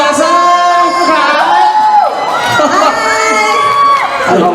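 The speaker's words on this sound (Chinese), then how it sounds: "热情的掌声" An audience at an outdoor festival concert in Taoyuan cheers loudly and continuously, with shouts and rising whoops layered over the crowd noise.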